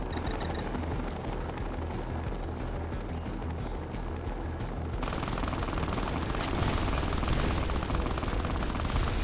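Cannon gunfire in the video game Fallout: The Frontier: a dense, continuous rattle of rapid shots over a roaring background that grows louder and harsher partway through.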